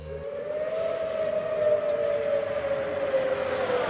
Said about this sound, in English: So this is what the siren sounded like that day.